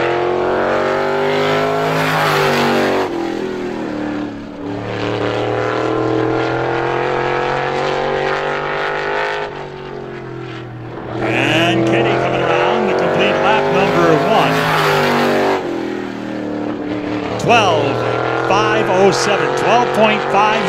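Race car number 77 on a time trial lap at Star Speedway, its engine roaring loud and close, rising and falling through laps as it passes, with an announcer talking over the noise.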